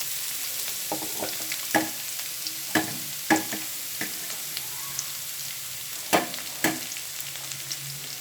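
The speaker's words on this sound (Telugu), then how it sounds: "ఇప్పుడు కాలీఫ్లవర్ అండ్ బీన్స్ ఫ్రై చేసుకోవాలి" Cauliflower and beans frying in oil, a soft constant sizzle punctuated by a series of distinct scraping and tapping strokes as the pieces are stirred around the pan, no voices.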